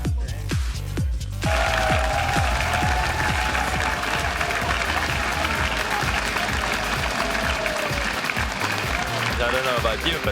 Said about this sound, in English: me and Nyph got a good cheer